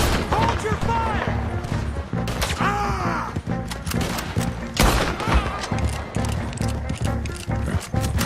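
Gunfire in Red Dead Redemption 2, scattered sharp shots cracking amid a chaotic firefight with horses and shouting voices over tense background music.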